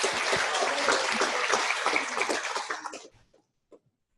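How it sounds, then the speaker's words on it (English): An audience at a nonprofit conference session applauds, a dense, loud wash of clapping that holds steady for about three seconds and then quickly dies away, with one last stray clap. "Round of applause."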